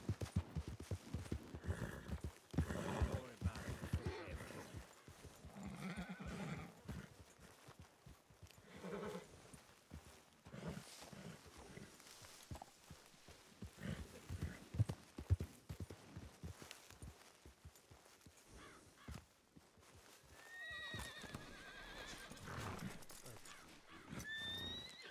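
Horses neighing and hooves clip-clopping in the Red Dead roleplay video game, with whinnies and busy trotting through a noisy scene of voices and gunfire-like bursts, ending on a clear high whinny.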